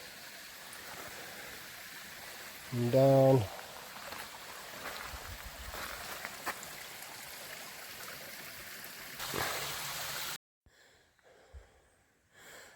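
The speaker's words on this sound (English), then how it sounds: "here's a stream. Water flowing through" Water runs in a small mountain stream along a hiking trail up Mount Mitchell, a steady soft rush with a brief louder tonal burst early on, then cutting to near silence with faint scattered sounds at the end.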